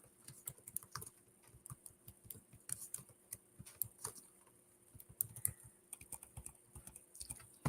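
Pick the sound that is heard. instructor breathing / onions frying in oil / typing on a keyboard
typing on a keyboard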